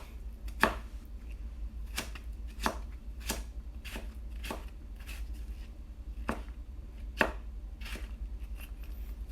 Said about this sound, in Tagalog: Chop po natin siya na parang butil ng mga mais.